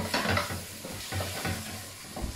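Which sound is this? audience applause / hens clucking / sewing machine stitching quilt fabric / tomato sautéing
tomato sautéing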